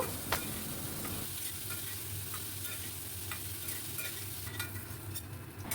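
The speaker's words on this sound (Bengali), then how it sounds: "এবার আলুগুলোকে লাল লাল করে ভেজে তুলে নেব" Potatoes sizzle steadily in hot oil in a pan while being stirred, with a few scraping taps of the spoon over the constant frying hiss.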